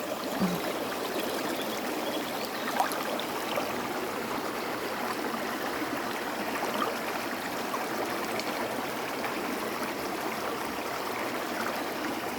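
Water flows in a steady, even wash of rushing sound, like a stream, continuous and unbroken throughout at a moderate level.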